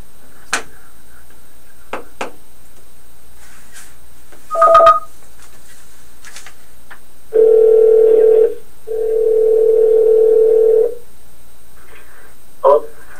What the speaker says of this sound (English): let's see if we can get him back on the phone